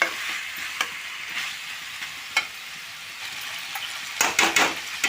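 Onions, potatoes and drumsticks frying in oil for a drumstick potato masala curry, with a soft continuous sizzle under scattered spoon scrapes and knocks, including a cluster of louder stirring clatter near the end.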